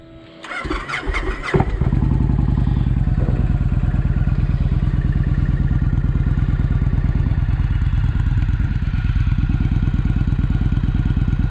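A 2012 Victory Highball motorcycle with stock exhaust starts with a clatter and then idles in neutral, a loud, close, steady low rumble with even pulses.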